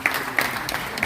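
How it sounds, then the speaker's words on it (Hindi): Audience applause at a Delhi University celebration of B. R. Ambedkar's 133rd birth anniversary, guests being welcomed onto the stage, a steady, moderately loud patter of many hands with a few sharper claps standing out. "आप प्लीज जोरदार ताली से स्वागत करेंगे।"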